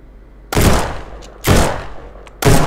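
In a video game, three loud, sharp gunshots crack about a second apart, each with a short booming tail. Faint clicks sound between them.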